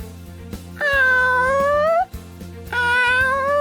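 A person imitates a cat's screaming meow, two long drawn-out wailing yowls with a short gap between them, loud and close over a faint repeating background beat.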